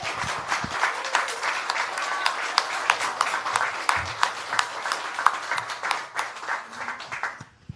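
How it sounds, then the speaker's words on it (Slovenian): An audience claps for an award winner at a literary prize talk, a steady, moderately distant round of applause that thins out and stops near the end. "en velik aplavz za zmagovalca."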